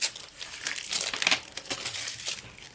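Protective film peeled off the front part of a Poetic Guardian case for a Galaxy Z Fold4, heard as close, crackly crinkling and tearing bursts in an uneven rhythm with no talking.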